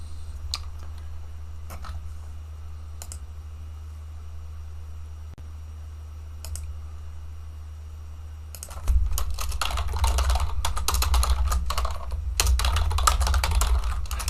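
Rapid, uneven clicking of keys on a loud computer keyboard, faint and sparse at first, then dense, close and loud in continuous bursts over a low steady hum.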